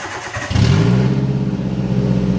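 A car engine cranks and catches after a brief quiet moment, then settles into a steady, fairly loud idle with a low hum, heard close in a service workshop.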